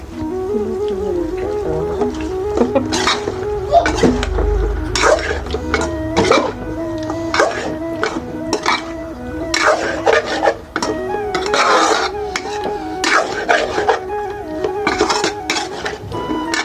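Fish and cauliflower are stirred in a cooking pan, with a spatula scraping and clanking against the metal in irregular close bursts and brief pauses over about seventeen seconds.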